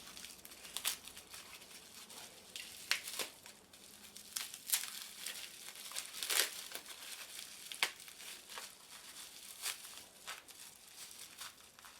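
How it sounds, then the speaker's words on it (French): A tightly wrapped parcel is unwrapped, its packaging crinkling and tearing in soft, scattered rustles and crackles with a few louder bursts, close but fairly quiet, with no one talking. "Tellement bien emballé que j'arrive pas à l'ouvrir."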